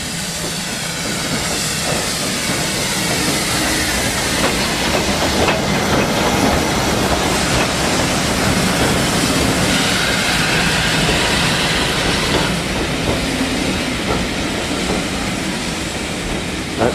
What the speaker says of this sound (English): And here comes the first train.